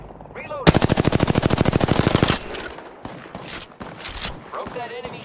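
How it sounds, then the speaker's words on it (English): Rapid automatic gunfire from the Apex Legends video game, a long steady burst of closely spaced loud shots, followed by scattered clatter, game effects and a voice speaking. "Opening fire on the enemy."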